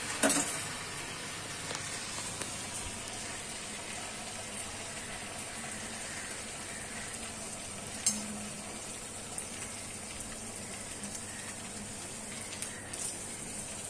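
Kokani-style kombdi vade, ring-shaped dough rounds, frying in hot oil over a raised gas flame. A soft, even hiss of bubbling oil runs throughout, with a couple of faint clicks near the start and the middle.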